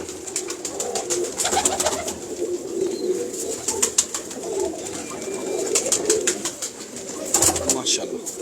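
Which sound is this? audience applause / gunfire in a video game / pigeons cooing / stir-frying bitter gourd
pigeons cooing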